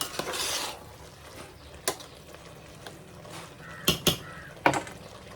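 Biryani being mixed in a cooking pot: a soft scraping stir at first, then a few sharp clinks and knocks of a spoon against the metal rim, close and without talk.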